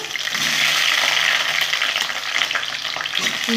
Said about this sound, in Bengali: তেলটা গরম করে নিয়েছি, তো সবজিগুলো ভেজে নেব।